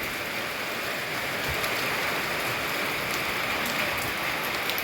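Heavy rain pours down steadily, a dense continuous hiss of drops with no voices.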